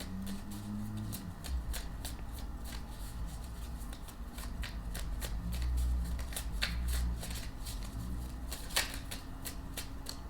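A small Wild Unknown tarot deck being shuffled by hand: a steady run of crisp, close card riffles and flutters that continues throughout, with no voices.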